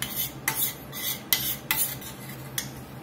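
Butter being stirred into a red wine pan sauce for filet mignon in a pan off the heat, giving repeated close scraping and clinking strokes of a utensil against the pan in an irregular rhythm, with no talk.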